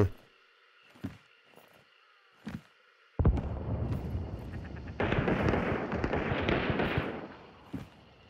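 Gunfire inside a church in Hunt: Showdown, starting as a few scattered distant shots, then swelling into a dense, sustained barrage of overlapping blasts and rumble before tapering back to isolated reports.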